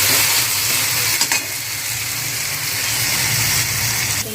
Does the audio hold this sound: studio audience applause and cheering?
no